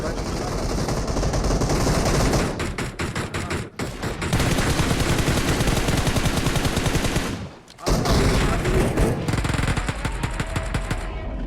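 Rapid automatic gunfire rattles almost nonstop in PUBG Mobile, shots fired from a house, loud and dense with brief pauses around four and eight seconds; players talk over it.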